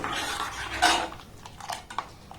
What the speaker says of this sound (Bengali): তাই লো দিয়ে এটাকে আমি 2 মিনিটের জন্য ফুটিয়ে নেব